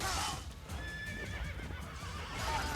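A horse neighs and whinnies in the video game Assassin's Creed: a loud, high, wavering whinny near the start and a second whinny near the end. Hoof clip-clop and battle noise run underneath.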